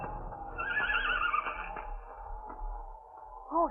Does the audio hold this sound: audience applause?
no